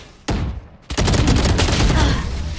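Rapid bursts of video game gunfire aimed at an enemy's head, loud and dense, a single shot and brief pause before a sustained volley.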